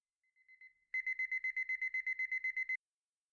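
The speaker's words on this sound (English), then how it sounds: "I love this alarm clock sequence." An alarm clock in an anime scene rings with a faint short beep first, then a loud, fast, regular series of electronic beeps for about two seconds before cutting off into silence.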